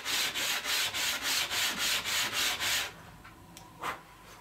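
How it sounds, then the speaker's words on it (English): Sanding the inside of MDF box pieces by hand, with about ten regular back-and-forth rasping strokes, close and steady, then a quieter stretch with a couple of faint knocks. "We're only going to sand the inside for now."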